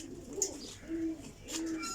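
Pigeons cooing in a loft, low soft coos repeating three times over about two seconds, with faint chirps and background noise.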